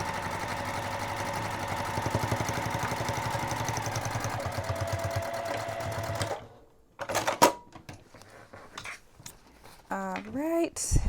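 A sewing machine top stitches a boxy bag, backstitching at the start and stop, running in a steady, close mechanical whir for about six seconds before stopping. Handling clatter and a brief voice follow.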